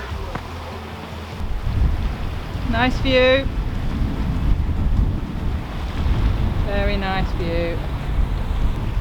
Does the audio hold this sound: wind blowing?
yes